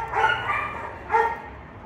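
A shelter dog gives two short, fairly faint barks about a second apart, with a quiet room background and no talking.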